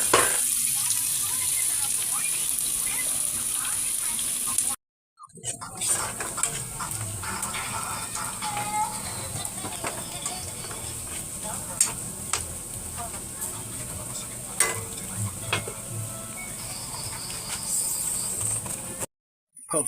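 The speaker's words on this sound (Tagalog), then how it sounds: "Gisa na natin yung bawang at sibuyas." Garlic and onion sautéing in a hot wok, a steady broadband sizzle with scattered stirring clicks and scrapes, close and continuous apart from two brief gaps.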